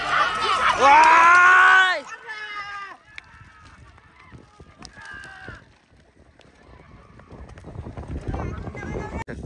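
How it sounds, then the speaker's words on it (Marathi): Bullocks pulling a bullock cart in a race run down a track, their hooves clattering amid loud honking horn-like calls and crowd noise, then a rising rumble of movement. "आता बैला आल्या खालती फटाफट."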